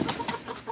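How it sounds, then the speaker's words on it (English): Hens on a homestead cluck softly in a brief, rapid series of short, close calls, with no voices over them. "I got pretty friendly chickens."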